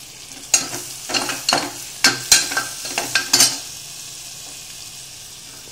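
Chopped vegetables, starting with capsicum, stirred in a hot pan for masale bhat: a run of sharp scraping strokes over a bright sizzle, then the spatula stops and a softer, steady frying hiss carries on alone.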